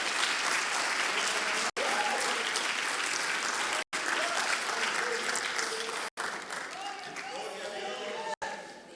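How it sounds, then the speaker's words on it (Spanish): A church congregation claps for Christ in a sustained, dense round of applause, with voices calling out over it and several brief dropouts. "Dale un aplauso a Cristo."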